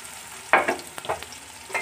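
Sliced onions dropped into hot oil with whole spices give a sudden burst of sizzle, followed by stirring scrapes and crackling that rise and fade in short bursts, close up.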